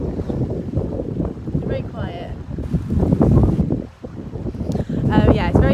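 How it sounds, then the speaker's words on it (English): Strong storm wind batters the microphone in Croatia, a constant rough rumble under a person talking throughout. "As you can hear, it's probably quite windy."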